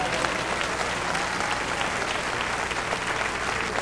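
Steady, dense applause from a church congregation rises throughout a Portuguese-language sermon, a continuous wash of many hands clapping with no pauses and no voices over it.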